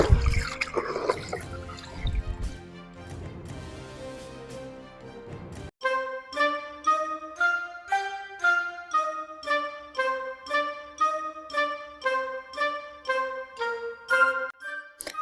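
Soaked grains for kunu zaki are rinsed, with several seconds of splashing, sloshing water, followed by a long series of regular, ringing tonal plinks.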